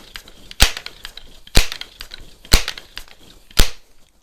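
Crosman model 102 multi-pump .22 pellet rifle firing four sharp, loud cracks spaced about a second apart, each with a brief ringing tail, with no voices.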